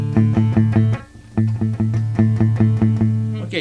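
Acoustic guitar struck in a quick steady rhythm with the 5th string muted by the thumb, so the strums stay clean without that string ringing; close, alone, with a brief pause near the middle.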